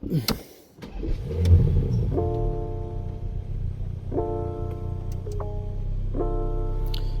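A 2018 Porsche Panamera 4S with a 2.9L engine starts up, then idles with a steady low rumble and brief rising tones, close and fairly loud, while a person talks over it.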